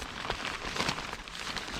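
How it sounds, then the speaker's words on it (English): Steady rain falling on a surface outdoors during a bikepacking trip on a rail trail, a continuous dense patter of drops with no voices. "Oh, the rain's coming down again."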